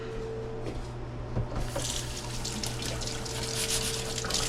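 Cold water runs from a kitchen tap into a sink, a steady close hiss and splash that starts abruptly and continues to the end, with no talking.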